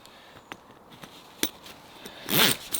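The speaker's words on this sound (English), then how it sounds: "It was these buttons all the way up, have been replaced by this zip here." A zip that replaced the buttons on a modified Polish lavvu tent is pulled in one quick, close rasp, with a few faint clicks and rustles of the canvas before it.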